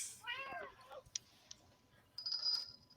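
Pet cats meow for their dinner, a harmonic wavering meow close by at first, a few small clicks, then a higher thin drawn-out cry toward the end.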